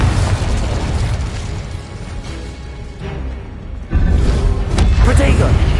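A Confringo blasting spell in Hogwarts Legacy on PS4 sets off a loud, booming explosion with heavy rumble, swelling again into a second burst partway through, all while a voice talks.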